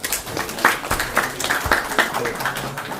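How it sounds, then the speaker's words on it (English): Audience applause at a lecture, a brief round of uneven clapping from a modest group, fairly close and loud. "Give him applause, Shrikar"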